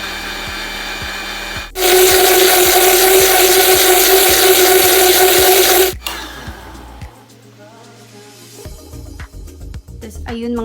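A kitchen blender whirs loudly for about four seconds, blending an iced pineapple matcha drink with coconut milk, then cuts off abruptly, leaving quieter clatter and background music.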